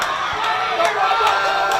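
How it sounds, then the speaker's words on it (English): A live crowd cheers and shouts at a schools rugby match at Havelock Park between D.S. Senanayake College and Mahanama College, a loud, continuous roar with scattered whoops. "Crowd is live here at Havelock Park"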